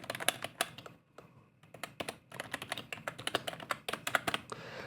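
Rapid clicky keystrokes from a mechanical keyboard with blue switches, sharp and close, in uneven bursts with a brief pause near the second mark, no talking.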